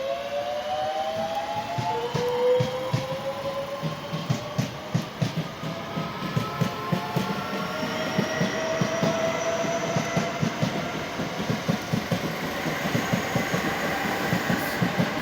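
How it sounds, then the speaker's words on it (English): A Southeastern Class 465 electric train runs through Sevenoaks station toward London Charing Cross from Tunbridge Wells, with a loud sustained rumble, rhythmic clickety-clack of wheels over rail joints, and rising squeals as the carriages roll past close by. "Southeastern Class 465 service, 465 leading to London Charing Cross from Tonbridge Wells."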